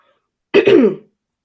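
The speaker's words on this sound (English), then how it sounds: "excuse me, I have to cough." A single throaty cough, close and fairly loud, a short rough burst that trails off in under half a second, with silence before and after.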